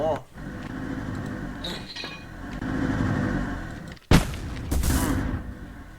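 A cannon fires in the Roblox game Build A Boat, giving one sharp, loud blast followed by a second burst, set over a steady background of game noise while a person talks.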